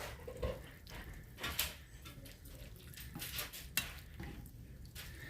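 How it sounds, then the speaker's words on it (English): Corned beef with vegetables being stirred in a pot, a utensil scraping and clinking against the metal in soft irregular strokes with a faint sizzle beneath, quiet and close, no voices. "Okay, so let's stir this around"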